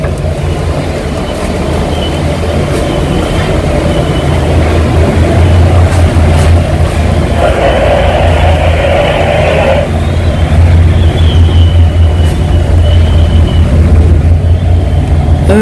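Strong wind at sea roars steadily and loudly over the deck of a ship in rough water, a low constant rumble with broader gusty swells in the middle, no talk.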